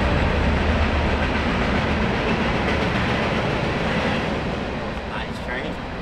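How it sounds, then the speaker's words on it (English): A train rolls past a golf course, a steady broadband rumble with rail clatter that holds at a fairly loud level for several seconds, easing slightly toward the end, with faint voices underneath. "What about that train?"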